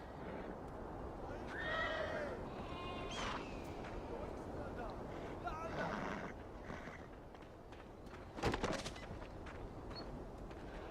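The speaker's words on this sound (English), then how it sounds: "Check out these horses." Horses neigh and whinny repeatedly at close range, with hoof clip-clops and a sharp bang near the end, over a steady background murmur.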